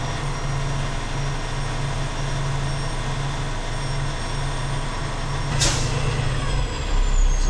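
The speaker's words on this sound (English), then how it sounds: "I heard the air dryer purge" A truck engine idles steadily throughout, then a sudden sharp burst of hissing air from the air brake system's air dryer purging cuts in near the end, followed by a louder rumble.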